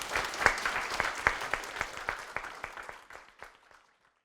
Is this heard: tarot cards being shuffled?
no